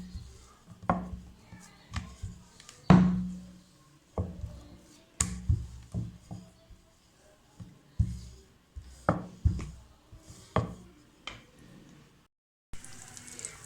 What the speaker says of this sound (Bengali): এখন আরেকটা আমি আপনাদেরকে বেলে দেখাচ্ছি।